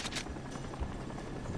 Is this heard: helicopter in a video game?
yes